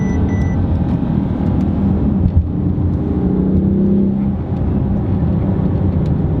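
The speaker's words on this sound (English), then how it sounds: "Got some good pops. You can press the gas, release it." An all-wheel-drive performance car's engine drones loudly and steadily from inside the cabin, a continuous low rumble with slight swells in revs and no clearly separate exhaust pops.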